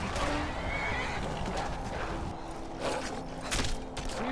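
A horse in the video game Skyrim whinnies and snorts amid clip-clopping hooves and shuffling, loud and close, with no one talking.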